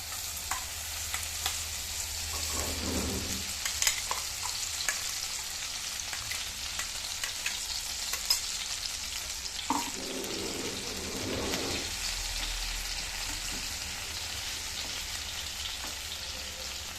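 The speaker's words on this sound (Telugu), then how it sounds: "అదే నెయ్యిలోని మనం ఈ కార్న్ వేసుకోవాలి" Sweet corn fries in ghee for a semiya payasam with a steady close sizzle, and occasional stirring scrapes and louder bursts break through; no voices.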